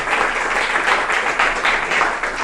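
A church congregation at a Sunday celebration service in Medellín applauds, a sustained busy patter of many hands with slight surges, close and fairly loud.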